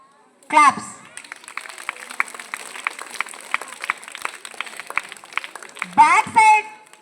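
Scattered, evenly paced clapping from an audience follows a children's karate routine at Viswabharathi, a thin run of hand claps framed by a loud announcer's voice at the start and end.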